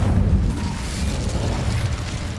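Incendio fire spell cast in Hogwarts Legacy: a low, rumbling whoosh of flame that swells at the start, then roars on steadily for a couple of seconds without talk.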